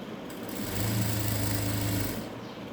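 A sewing machine runs along the folded side seam of a 38-inch chudidar, a close, continuous motorized hum and rapid needle whir that swells in the middle and eases toward the end.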